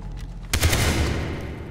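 A gun fires in Far Cry 3, one sharp loud crack partway through, followed by a ringing decay with a couple of low thumps under it.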